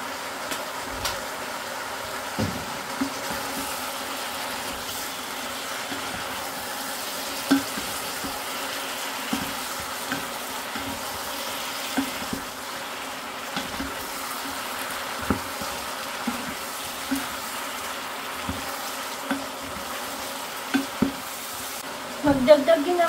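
Mushrooms sizzle steadily in a frying pan while a utensil stirs them, producing scattered scraping clicks over the constant hiss.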